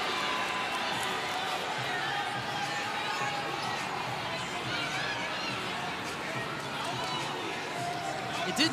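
A basketball arena crowd reacts after a player's knee injury during a game, giving off a steady, loud murmur and rising chatter that fills the space with no pause.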